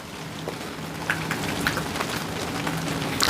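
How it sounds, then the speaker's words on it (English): Steady rain patters on an RV awning near the coast, a dense continuous hiss with scattered sharper drops, faint wind chimes ringing in the background. "listening to the rain hit the awning."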